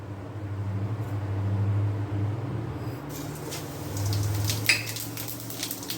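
Cumin seeds go into hot oil in a pot for jeera puri, followed by soft crackling and light metallic clinks over a low steady hum, close and moderate in level.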